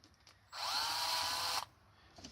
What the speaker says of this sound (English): If I can get a drill on the end of that with a hex drive, I can power that with a drill.